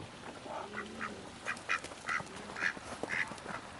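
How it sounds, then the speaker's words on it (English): Female duck quacking loudly on a farm pond in the evening, a run of about eight short, fairly close quacks over faint outdoor background noise. "she kind of has that loud quack"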